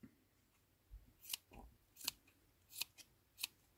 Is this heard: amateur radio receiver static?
no